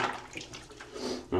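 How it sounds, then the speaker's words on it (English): Hot soapy water sloshing softly in a tub of laundry being washed by hand, a quiet, close, continuous splashing with no talking. "let the hot soapy water do its thing"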